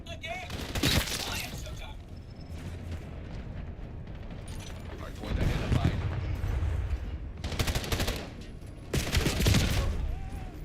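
Gunfire in Black Ops 7 multiplayer comes in several loud bursts of rapid shots, separated by quieter stretches of game ambience.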